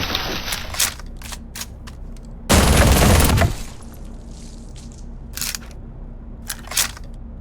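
Mechanical clicks and clacks of a gun being reloaded in the video game Vampire Hunters 3, with one loud, dense metallic burst in the middle and scattered sharp snaps around it, close and clear with no talking.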